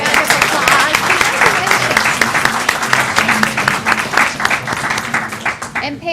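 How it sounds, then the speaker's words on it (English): A school board meeting audience breaks into sustained, dense applause honoring students, a steady wash of many hands clapping that carries through and begins to thin at the end. "Let's give them another round of applause."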